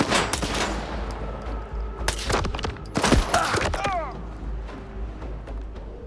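Gunfire in S.T.A.L.K.E.R. 2, a string of sharp close shots clustered across several seconds, loud over a low ambient rumble, with light talking faintly present.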